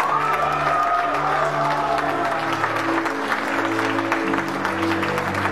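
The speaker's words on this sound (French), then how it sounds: "Faites un tonnerre d'applaudissements pour eux, s'il vous plaît" A concert audience at a show in Verneuil-sur-Vienne gives loud, sustained applause with scattered cheers and whoops, a dense steady wash of clapping from the crowd with music-like tones lingering underneath.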